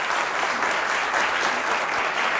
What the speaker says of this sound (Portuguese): vamos dar uma salva de palmas para a Bia.